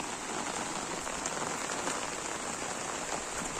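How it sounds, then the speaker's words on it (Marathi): Steady, dense rain pattering on a surface, a continuous broadband hiss with no voices, close and fairly loud throughout. "पाऊस भरपूर आहे"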